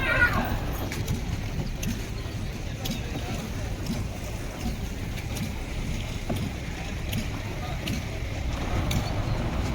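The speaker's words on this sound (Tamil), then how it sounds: "இது வந்து நாட்டு படகு தான், அதாவது இன்ஜின் இருக்கக்கூடிய ஒரு நாட்டு படகு தான் இது." An engine-powered wooden country fishing boat out at sea gives a steady, continuous low drone, blended with wind buffeting and water wash throughout.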